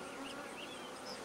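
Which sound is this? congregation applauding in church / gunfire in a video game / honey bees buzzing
honey bees buzzing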